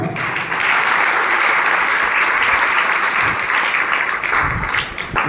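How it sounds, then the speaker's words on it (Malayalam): An audience gives sustained applause for a Father's Day greeting, a dense, even wash of many hands clapping that holds for several seconds, then thins and fades near the end with no voice over it. "നല്ലൊരു കൈയടി കൊടുക്കാം"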